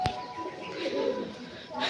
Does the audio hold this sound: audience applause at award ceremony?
no